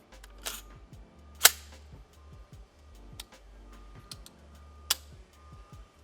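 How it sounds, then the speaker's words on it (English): The trigger of an unloaded U.S. Arms Baseline M4 rifle, a 5.5 pound trigger, is dry-fired and gives a few sharp, isolated metallic clicks, close and fairly faint, set apart by quiet gaps. "now I'm just gonna break the trigger"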